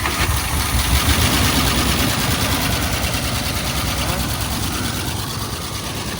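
A 1979 Oldsmobile Cutlass left sitting for 29 years runs at a rough, steady idle, a loud dense rumble close by that holds constant and eases slightly toward the end.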